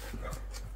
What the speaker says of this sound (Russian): Нам Генри у нас лает